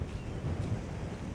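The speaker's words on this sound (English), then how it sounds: "Oh, that's really windy." Strong wind buffeting along the Cornish coast at high tide during a storm, a dense roaring rumble with gusty wind noise on the microphone, loud and continuous with no talking.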